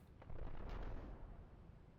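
Gunfire and heavy weapon bursts from a WW2 real-time strategy battle in Platoon Commander, a dense booming volley of shots and blasts rolling together over about two seconds.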